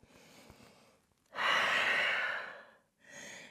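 A long, deep breath taken during a yoga flow in downward dog: a soft inhale, then a loud, breathy exhale lasting over a second, followed by another quieter breath, with no talking.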